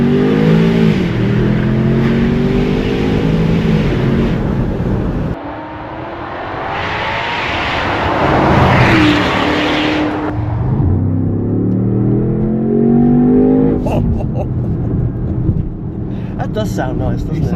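A Range Rover Sport SV L461 fitted with a Quicksilver sports exhaust accelerates hard, its loud engine note climbing in repeated rising sweeps, easing off briefly, then surging and revving again.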